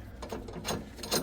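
A ratchet wrench clicks in a few short bursts while tightening plastic garbage disposal drain fittings under a kitchen sink, quiet and close with no talking.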